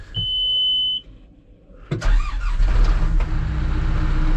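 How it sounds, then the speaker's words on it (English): A backhoe engine warming up on a muddy farm: a steady high beep for about a second, a pause, then the engine turns over and settles into a loud, close, broadband rumble that continues to the end. "while we are waiting for the backhoe to warm up"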